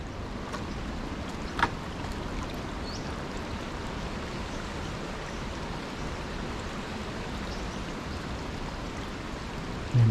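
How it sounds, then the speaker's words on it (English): Water flowing at a small forest creek crossing on a trail in Main Range National Park, a faint steady wash and trickle with a couple of light knocks, no talk. "Oh, we've got a little creek crossing."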